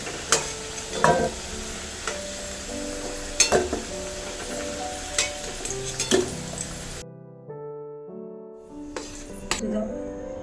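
Potatoes fry in oil in a home kitchen pan, a low sizzle broken by repeated utensil scrapes and metallic clinks, with a short quiet gap before the stirring and clatter resume.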